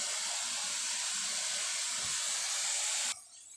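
Spices sautéing in oil in a pan for a Bengali chara pona fish curry give a steady, close sizzling hiss for about three seconds, then drop off abruptly to a faint hush.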